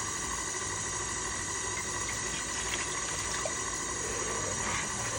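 Water, 375 grams, poured into a bread dough mix, a steady rushing, gushing flow that holds at one level throughout, close and alone without talk.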